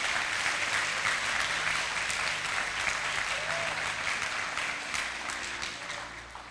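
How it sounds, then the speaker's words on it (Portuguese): A church congregation applauding during a service, a continuous wall of many hands clapping with steady intensity that fades slightly toward the end, with faint voices underneath. "Se você está aplaudindo ao Senhor, pode aplaudir com mais vontade."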